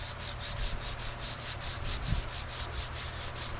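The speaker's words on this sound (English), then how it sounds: "and start sanding" Sandpaper rubbed by hand over a cast motorcycle wheel being restored, making a steady, close scratching rasp in even back-and-forth strokes for the whole stretch.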